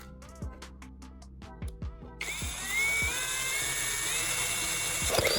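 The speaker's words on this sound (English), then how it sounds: "I'll then use my drill with a standard bit to carefully create the initial holes at these marked spots." A power drill with a standard bit boring starter holes at marked spots: a few short bursts of whirring first, then a long steady whine with pitch shifts, close and loud, no talk.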